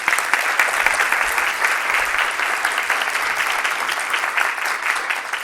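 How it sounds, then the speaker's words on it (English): Sustained applause from a crowd at a customer service recognition event in Macon, Georgia, steady dense clapping throughout at fairly loud level with no talking over it. "Please give them a round of applause."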